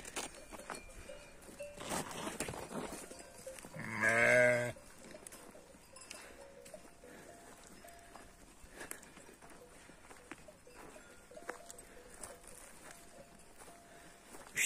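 A single sheep gives one short, close bleat on a village farm during lambing season, with quiet shuffling and faint movement around it before and after.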